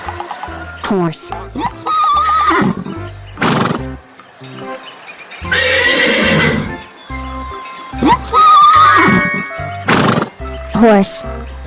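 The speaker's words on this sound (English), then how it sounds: "horse," A cartoon farm horse neighs in several loud, close whinnies, with brief pauses between calls and a faint clip-clop of hooves.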